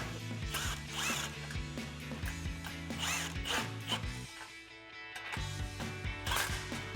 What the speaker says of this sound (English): Then we can take a 14mm socket to tighten down our clamp.